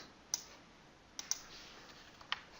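Faint, sharp computer mouse clicks on a software button come in a sparse, irregular few over a quiet background hiss, close and isolated.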